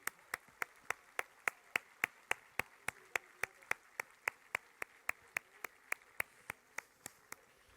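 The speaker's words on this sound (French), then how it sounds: "On les applaudit." An audience at a 2023 archery festival final applauds the 2022 champions with steady rhythmic clapping in unison, each clap sharp and evenly spaced, heard from a distance at low volume.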